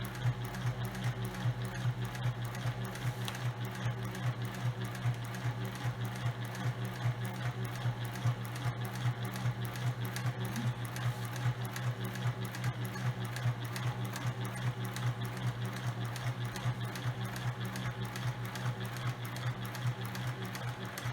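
A sewing machine back stitches fabric with pins in place, a fast, even mechanical whir with a steady rapid ticking rhythm running continuously at close range, fairly quiet and alone.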